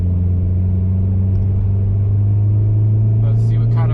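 A turbocharged car fitted with a new ECU pulls in second gear, a loud, close, steady engine drone with a deep rumble and no voices.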